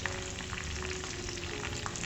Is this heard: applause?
no